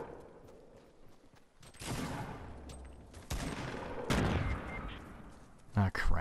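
Rapid gunfire in the video game Fortnite comes in several loud bursts separated by brief lulls. The shooting sounds near, and other game sounds are mixed in beneath it.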